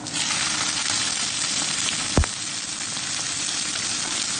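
Oysters sizzle in a pan with garlic, ginger, onion and chili as adobong talaba is cooked, giving a steady, even frying hiss with one sharp click partway through.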